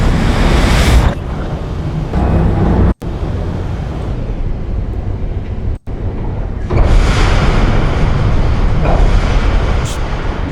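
A massive impact from a sound effects library played in reverse: a loud, dense roar that swells and surges across several sections, broken by two abrupt cutoffs.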